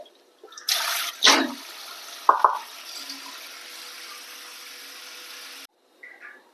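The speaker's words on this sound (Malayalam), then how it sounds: "അപ്പോൾ 1 പ്രാവശ്യം കൂടി കഴുകിയെടുക്കുക." Water poured and sloshing as tapioca is washed in a kitchen, with splashes followed by a steady running-water hiss that stops abruptly, then a brief faint splash.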